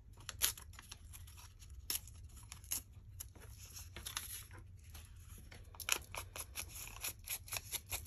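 Scissors snipping through paper while trimming a craft journal bookmark, a run of quiet, crisp cuts at an uneven pace, close up, with no talking.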